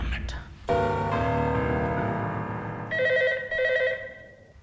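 A telephone rings loudly in a dramatic film scene with a sustained electronic ringing tone, with brief sounds just before it starts and a pulsing higher ring pattern later.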